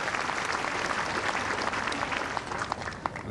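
Crowd applauding at a 1990 bowls final, sustained dense clapping of a sizeable audience that continues evenly throughout.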